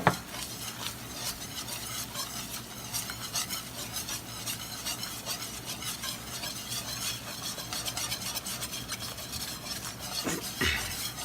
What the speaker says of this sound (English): Now you're probably going to stir this for about 10 minutes